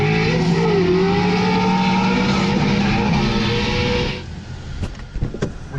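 A drift car's engine revs hard with a sustained, loud, wavering roar as it drifts through the Nurburgring carousel, then cuts off sharply, leaving lower rumble and a few clicks.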